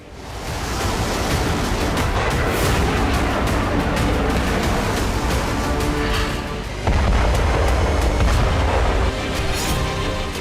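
Missile strikes on a Ukrainian weapons depot during the Russia–Ukraine war, heard as a continuous loud roar of blasts and rumbling fire with sharp cracks, a heavier surge partway through, no speech.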